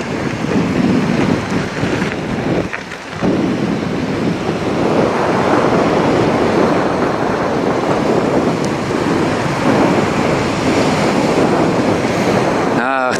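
Waves roll onto a Baltic Sea beach on a summer coastal bike ride, a steady, loud surf wash with wind buffeting the microphone throughout and a brief lull partway through.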